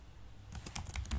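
Short burst of typing on a computer keyboard while entering Python code, quiet at first then a quick run of close, crisp key clicks with no voices.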